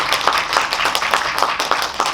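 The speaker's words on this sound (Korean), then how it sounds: "그래서 일단 박수 한번 보내주세요." Audience applause in a cinema auditorium at a film screening Q&A event, dense steady clapping from many hands filling the room, sustained throughout without talk.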